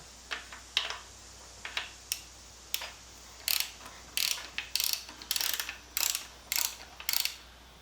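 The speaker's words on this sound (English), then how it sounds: "Crank this around until I get the points open." A Sears 1250 watt alternator engine is turned over by hand to open its points, producing a series of sharp mechanical ratcheting clicks in irregular bursts, close and fairly quiet, with no talk.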